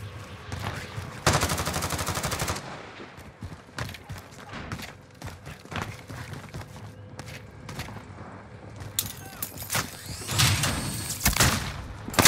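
Gunfire in a video game, bursts of rapid automatic shots alternating with single cracks over a steady background of movement and footsteps, loud and close, with no talking over it.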